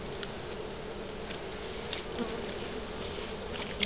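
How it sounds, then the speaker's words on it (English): Honeybees buzz steadily around an open beehive during an inspection, a continuous close insect drone with a few louder passes near the end. "Watch out, bees."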